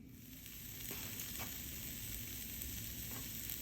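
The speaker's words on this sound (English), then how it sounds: "I have these delicious vegetables that I'm gonna add into my frying pan." Leftover Mexican restaurant vegetables fry in a nonstick frying pan, a close, steady, crackling sizzle with a few soft stirring scrapes and no talking.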